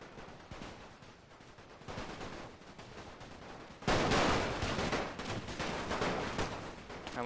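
Musket volleys crackle through a Napoleon Total War battle in the Great War mod, a dense, continuous stream of distant shots that suddenly swells into a louder, fuller barrage partway through, with no voices.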